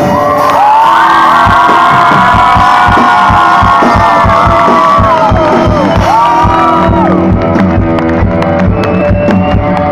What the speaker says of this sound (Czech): Poprosím vás o ten největší potlesk, pískot, jekot a všechno dohromady